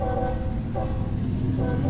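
A train runs along the track in the Roblox video game, giving a steady, continuous rumble with a faint horn-like tone that holds at an even level throughout.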